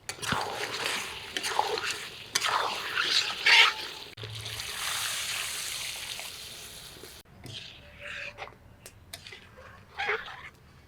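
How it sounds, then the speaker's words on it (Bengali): Hot water pours into a mutton curry with new potatoes, a broad rushing trickle and splash that lasts several seconds before giving way to quieter sloshing and stirring noises, close by with faint background sounds. "আর ঝোলের গরম জল দিব যাতে তাড়াতাড়ি হয়ে যায়"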